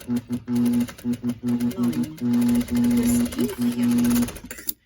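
A sewing machine stitches across the corner of a shirt collar on a women's blouse, running in several loud bursts with short pauses between them, the motor hum steady and close.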